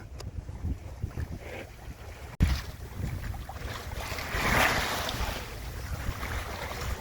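Sailboat Kerastec 3 under way in light wind at about 60 degrees to the wind, with a steady wash of water and wind buffeting the microphone, one sharp knock partway through and a swell of water noise after it.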